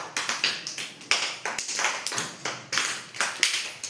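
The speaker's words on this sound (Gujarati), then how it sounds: "ચાલો તાળી પાડો" Children clapping their hands in a steady, rhythmic beat, sharp close claps repeating a few times per second.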